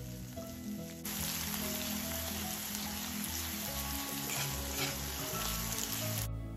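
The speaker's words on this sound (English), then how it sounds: "Now add about 2 chopped onions and a green chili. Saute on a medium flame for about 1 to 2 minutes until the onions turn translucent." Chopped onions and a green chili sauté in a pan over a medium flame, bursting into a busy, close crackling sizzle after a quieter first second and holding steady to the end.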